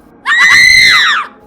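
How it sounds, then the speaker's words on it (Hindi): A woman lets out a single loud, piercing scream lasting about a second, rising and then falling away. "औरत की चीख"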